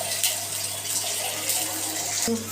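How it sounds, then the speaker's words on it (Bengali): Water pours from above into a cooking pot of mustard-based food, a steady close splashing rush with a brief clatter near the end. "এবার মা উপর থেকে দিয়ে দিল একটু জল।"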